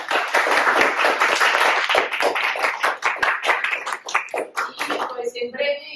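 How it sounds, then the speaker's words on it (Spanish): A seminar audience applauds a teacher at the close of an academic conference talk: dense, steady clapping from many hands that thins out near the end, with some voices mixed in. "Le damos un aplauso, por favor"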